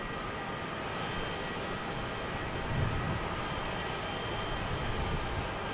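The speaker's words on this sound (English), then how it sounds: "That's the Malaysian that arrived a couple of minutes ago, just taxiing in." A Malaysian airliner taxiing in at Melbourne Airport at night, a steady distant engine rumble and hiss that holds evenly throughout, swelling slightly in the middle.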